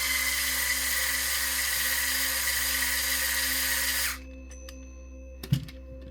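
A power tool runs steadily to snug bolts on a DX44 portal wide front axle, a continuous close whine that stops abruptly partway through, followed by a few faint clicks and a brief clatter.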